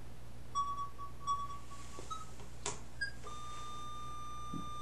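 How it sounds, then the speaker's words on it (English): A smartphone level app on a Celestron 5SE telescope holds a steady electronic tone for stretches, broken by a few short beeps, faint and close with a quiet background hum. "It's level right now and it emits that constant tone"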